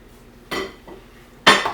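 A plate is set down in a kitchen, heard as two close ceramic clinks, the second louder, separated by about a second of quiet.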